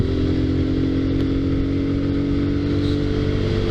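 A 2019 Kawasaki Z125 motorcycle being ridden, with its small engine humming at a steady, even pitch, close and continuous throughout with no voices.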